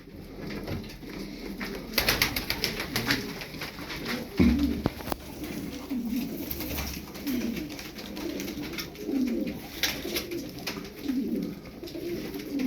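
Several tumbler pigeons coo softly and repeatedly, close by, with low throaty rolling calls, wing flutters and scattered clatter in the background.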